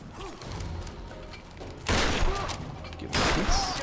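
Two loud shotgun blasts from the Tomb Raider (2013) video game, each a sharp broadband burst with a lingering decay, spaced over a second apart above quieter in-game mechanical noise.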